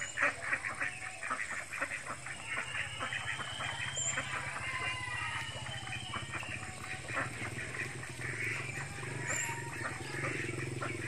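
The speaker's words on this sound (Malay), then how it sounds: "Inilah tempat itik suka berenang di sungai." Village ducks swimming in a river quack repeatedly in a noisy chorus, overlapping and rhythmic, over steady flowing water and outdoor background noise, moderately close with no clear speech.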